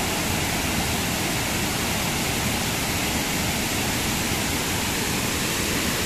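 Strong, steady roar of rushing water at Pangas Falls, a dense broadband wash that fills the whole clip without a break, loud and close with no voices over it.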